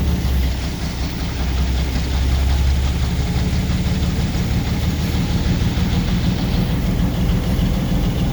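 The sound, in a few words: locomotive diesel engines idling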